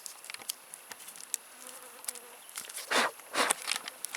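Insects buzz outdoors on a wilderness hike, with a few louder close passes over soft ticking and rustling, faint and intermittent.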